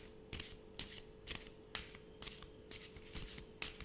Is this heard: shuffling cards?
yes